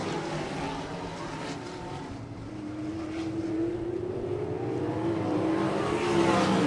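ASCS Elite non-wing sprint cars race around the South Texas Race Ranch track, their engines a continuous roaring drone that swells louder toward the end as the pack passes.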